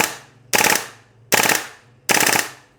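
Airsoft rifle firing three short bursts, each a rapid rattling string of shots about half a second long with brief pauses between, loud and close.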